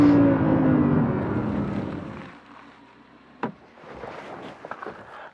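A 2016 Audi R8 V10 Plus kicks down from 40 mph, its engine roaring loudly at first and then easing into a quieter hum of road and cabin noise with a few faint knocks.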